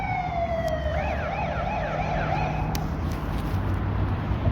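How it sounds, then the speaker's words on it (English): A fire engine siren wails past, its rising and falling tone sweeping clearly over steady road and traffic rumble, loud and fairly close throughout. "Oh, there's a fire engine."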